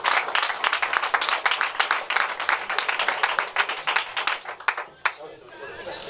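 Audience applause at a boxing and K1 weigh-in event, a dense run of clapping from a crowd in a hall, lasting several seconds and trailing off near the end, with voices mixed in.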